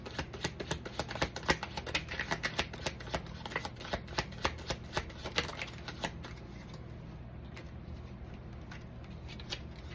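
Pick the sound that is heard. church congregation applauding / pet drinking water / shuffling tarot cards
shuffling tarot cards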